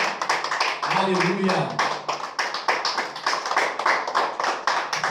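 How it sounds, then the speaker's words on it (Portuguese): Congregation clapping in a church service, brisk irregular claps rising and falling in bursts, with a voice calling out over the clapping. "aplauda bem forte ao Senhor Jesus por essa palavra"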